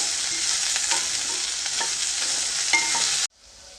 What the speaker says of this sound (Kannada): ಇವಾಗ ಬೆಂಡೆಕಾಯನ್ನು ಹುರ್ಕೊಂಡಿದ್ದೀನಿ ಸ್ಟವನ್ನು ಆಫ್ ಮಾಡ್ಕೊಂಡಿದ್ದೀನಿ